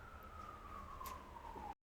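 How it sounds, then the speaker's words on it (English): A single emergency vehicle siren on a New York street, a clear steady wail gliding slowly downward in pitch over street background, moderately close, then cutting off abruptly. "Let's wait for the siren. New York."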